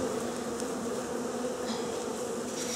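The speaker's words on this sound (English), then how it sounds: "shake the bees into the box." Honey bees from a package hum in a dense, steady buzz during installation into a hive box, close and continuous with no talk.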